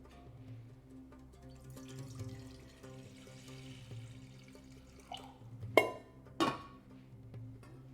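Tap water runs into a cooking pot at a stove for boiling carrots and potatoes, a soft steady stream with a couple of sharper splashes or clanks near the end; no talking.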